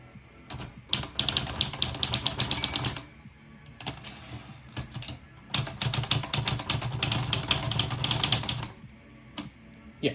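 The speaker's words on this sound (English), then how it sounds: "if you jam two keys together because you're typing too fast, you can just simply flip them back" Rapid bursts of typing on an Olivetti typewriter, with sharp key strikes clustered in dense runs separated by short pauses, close and fairly loud with no voices.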